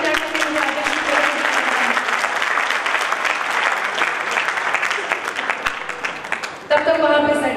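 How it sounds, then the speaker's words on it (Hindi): A large audience at a Hindi comic poetry gathering claps steadily and loudly, the dense applause holding for several seconds and swelling again near the end. "यदि आपकी अनुमति हो तो एक बार ताली बजाकर मुझे आदेश करें।"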